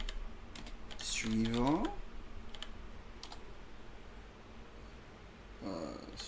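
Soft computer keyboard typing clatters in short clusters under a man's speech, close and fairly quiet, with a faint steady background hiss.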